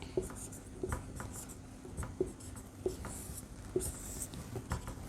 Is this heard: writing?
yes